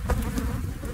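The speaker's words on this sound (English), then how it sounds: "we've got a little swarm of bees going on" A swarm of honeybees that has settled in a tree, buzzing steadily and densely throughout, close and continuous with no voices.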